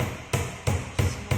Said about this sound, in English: So use a hammer now.